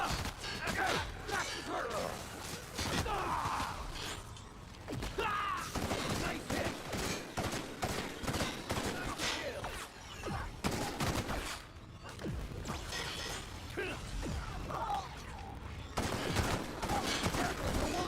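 Sustained electric LMG machine-gun fire in a video game, dense rapid bursts running nearly the whole time with short breaks, loud and close, mixed with other game combat noise.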